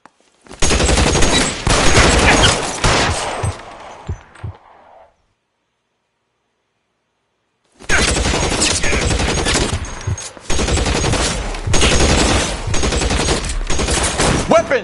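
Dense bursts of rapid gunfire ring out in an L.A. Noire police shootout, loud and close, then stop for a few seconds of silence before another sustained volley of shots resumes.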